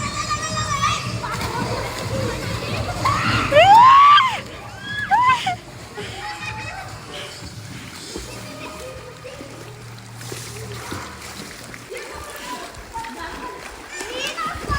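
Water splashes and sloshes in a swimming pool in Kosgi, mixed with children's voices and shouts, including a loud squeal, and people talking over the steady background of the pool.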